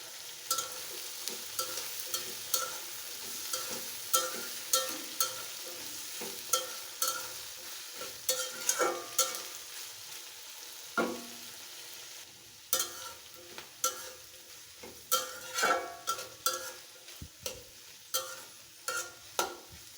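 Malabar spinach fruit frying in a pan, a soft low sizzle under frequent sharp scrapes and taps of a spatula against the metal, clustered in bursts and brief pauses, close and without speech.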